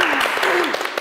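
Brief studio applause in honour of Pakistan's cricket team and Babar Azam's captaincy, with scattered claps running under a talking voice.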